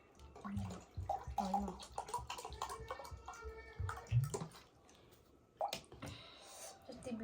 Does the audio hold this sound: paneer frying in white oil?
no